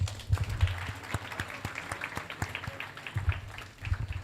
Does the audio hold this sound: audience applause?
yes